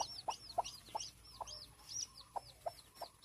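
A hen clucks in short repeated bursts while her chicks peep in high, thin chirps throughout, close and fairly quiet, with the clucks and peeps overlapping in a busy rhythm.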